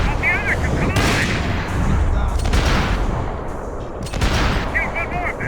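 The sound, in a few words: gunfire in Max Payne 3, from a video game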